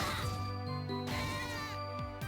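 A cat meows in the game Castlevania: Portrait of Ruin, with several harmonic, wavering mews in quick succession, clear and fairly close over faint background music.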